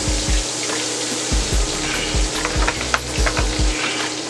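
Oil sizzling hard in a pan while a whole red snapper cooks Thai style, a loud continuous crackling hiss with low rhythmic thumps underneath, close up and without talk.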